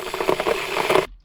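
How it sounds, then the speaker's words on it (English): A kettle starting to heat makes quick, irregular ticking and rattling crackles, close and fairly loud. It cuts off suddenly after about a second. "But when the kettle's starting up, that sounds really cool."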